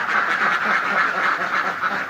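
A flock of farm-raised ducks quacks continuously in a dense, overlapping chorus, close by and with no talking.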